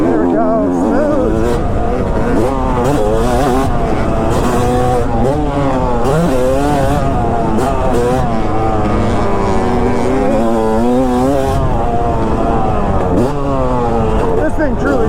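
A Yamaha YZ250 two-stroke dirt bike engine screams at full throttle, loud and close, its pitch rising and falling in repeated sweeps as the rider works through gears, with wind rush throughout.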